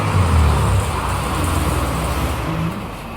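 Early-morning traffic at a Bangkok bus station: a steady, fairly loud roar of engines and road noise with low vehicle rumble, loudest in the first second and continuing without pause.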